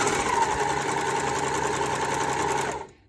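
An overlocker sewing machine stitches along a fabric seam to run out a long thread tail, giving a steady, fast mechanical whir and rattle close by that stops abruptly near the end.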